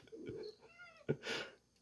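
A house cat meows softly nearby, a couple of short drawn-out cries followed by a faint breathy hiss, with no talk over them.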